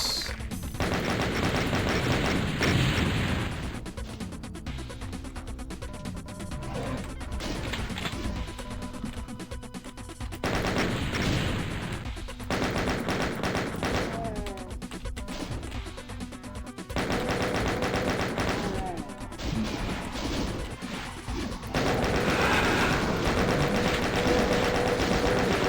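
Rockets fire and explode in the shooter Doom, on the TNT2 Devilution map set, as loud booming blasts that recur over a steady in-game music and noise bed.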